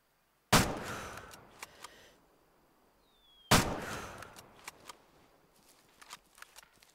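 Two loud hunting-rifle shots ring out about three seconds apart in the Way of the Hunter hunting game, each a sharp crack trailing into a long echoing decay across open terrain, followed by faint scattered ticks.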